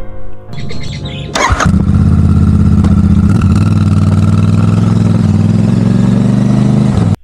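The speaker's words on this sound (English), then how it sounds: "the beauty and sound of the twin exhausts is what I craved for" A Royal Enfield Meteor 650 cruiser with twin exhausts starts up and settles into a loud, steady parallel-twin idle that rumbles close by for several seconds before cutting off.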